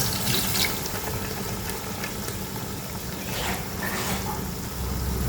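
One liter of water poured into a pot of phanaeng curry with bamboo shoots: a steady, continuous splashing pour that runs evenly throughout with no talking.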